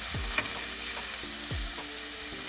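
Jerk-marinated shrimp fry in a pan with a steady, loud sizzle, while a utensil stirs and scrapes them in a few low, sweeping strokes.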